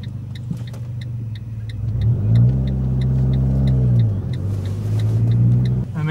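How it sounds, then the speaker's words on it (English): A manual-transmission Fiat 500 pulls away as the clutch engages, its small engine humming and then rising in a near, steady rumble as it revs and the car gets moving. "lift the clutch up until I feel the car start to grab right there. You can kind of hear it too."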